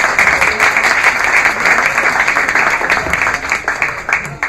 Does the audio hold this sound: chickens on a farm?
no